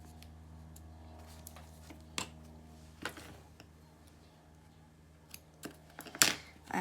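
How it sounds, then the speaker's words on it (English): A few faint, sharp snips of scissors cutting double-sided tape, spaced irregularly against a quiet background hum. "I actually have a pair of scissors that's dedicated to cutting the double-sided tape."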